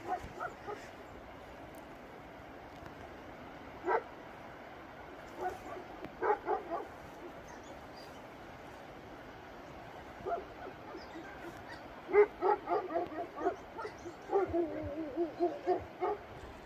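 Dogs bark and yip outdoors, scattered single barks then a faster run of yelps and whimpers toward the end, moderately distant over low background noise.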